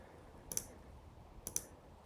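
Two crisp computer mouse clicks on an update button, about a second apart, each a quick double tick, close and faint over a quiet room hum.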